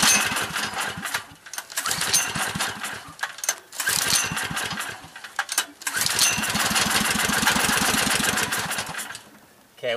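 Small generator engine fed by a wood stove sputtering into life, with rapid uneven firing pulses that catch, falter and pick up again, close and loud over a broad hiss.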